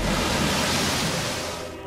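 A creature splashes down into water in the Parasite Eve video game, a loud broad wash of rushing noise that fades slightly over two seconds.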